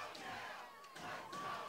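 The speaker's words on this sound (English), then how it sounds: "Yale crowd comes alive." Crowd cheering and shouting at a Yale men's lacrosse game against Brown, a faint, distant roar of spectators swelling and falling over under two seconds.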